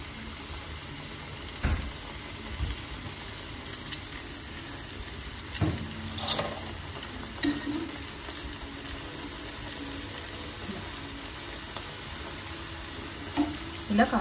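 Garjalu dumplings fry in hot oil, one after another, with a soft continuous sizzle and hiss, punctuated by occasional clinks and splashes as pieces are added or turned.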